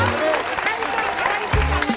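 Short burst of audience applause for a correct answer on a Bengali quiz show, clapping mixed with a voice and crowd murmur, fairly loud.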